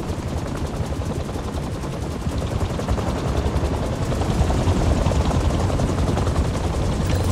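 Helicopter rotor in the Spider-Man 2 PS5 game, a dense, steady rapid chopping thrum heard close and loud throughout, with a busy rumbling background.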